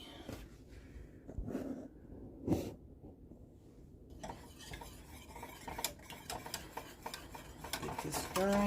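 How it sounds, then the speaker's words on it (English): Spatula stirring a dairy-free chocolate mixture in a pot, soft scraping and stirring strokes with occasional clinks of utensils, close and fairly quiet, growing busier toward the end. "Get this stirring."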